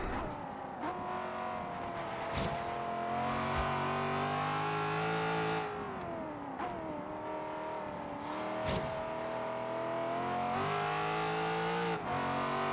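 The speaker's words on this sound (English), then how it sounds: "it does have that supercharged V8" A supercharged V8 Mercedes C63 AMG races in Forza Horizon 3, its engine droning loudly and continuously, pitch rising and falling through repeated gear shifts and revs, with occasional brief tire squeal.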